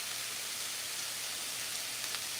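Steady rain falls during a storm as a soft, even hiss of drops with no breaks, fairly faint and continuous throughout.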